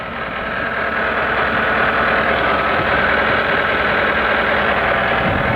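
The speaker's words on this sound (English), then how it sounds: "I'm going to show you now us running the engine, and you can see what a sweet engine is" A Panhard AML60 armoured car's air-cooled engine runs steadily and loudly, a dense, even mechanical clatter and hum building up in the first half-second and then holding constant throughout, with no talk.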